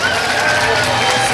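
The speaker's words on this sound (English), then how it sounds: "If we can give these ladies a round of applause one more time." Audience applause for Little Miss Richmond pageant contestants at a festival opening ceremony, a dense steady wash of clapping from a crowd, loud and continuous.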